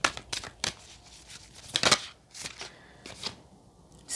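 Oracle cards from a goddesses, gods and guardians deck being shuffled by hand, with soft repeated riffling swishes and flicks that come in uneven bursts at close range.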